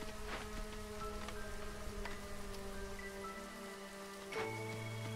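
Steady storm rainfall in the colony-building game Against the Storm, a dense continuous hiss under sustained game music tones, with a few brief ticks and a soft low swell near the end.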